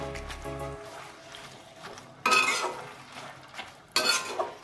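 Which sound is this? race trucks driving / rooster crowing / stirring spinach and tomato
stirring spinach and tomato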